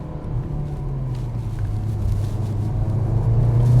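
A 2023 Mercedes-Benz C43 AMG runs on the road with a steady low engine drone and road rumble. The pitch climbs slightly and the sound gets louder toward the end, with no talking.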